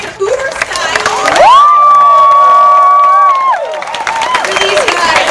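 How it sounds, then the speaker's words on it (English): Audience at a movie premiere cheering and applauding in a loud, sustained burst, with crowd voices and shouts layered over the clapping and a bright whistle-like tone riding high through the middle. "Big round of applause"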